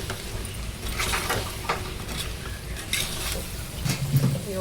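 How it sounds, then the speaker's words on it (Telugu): Chili powder being stirred into chicken curry in a pot, with scraping spoon strokes and soft clinks against the metal over a low sizzle, in irregular bursts at close range. "కొంచెం ఇప్పుడు ఇది బాగా కలుపుకుందాం మనం ఒకసారి."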